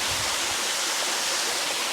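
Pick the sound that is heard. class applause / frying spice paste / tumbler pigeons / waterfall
waterfall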